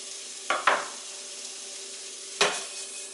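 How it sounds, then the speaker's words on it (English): Bacon sizzles in a pan with a constant faint crackling hiss, broken by two sharp scraping stirs from a utensil against the pan, with no voice. "So we'll get our bacon in so that can start to cook down."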